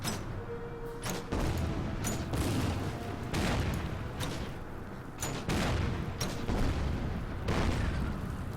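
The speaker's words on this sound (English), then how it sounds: "You can just fire the mortars." Mortar fire in the WWII strategy game Order of Battle: a series of heavy, booming blasts, about six or seven, spaced a second or so apart over a steady low rumble of battle noise.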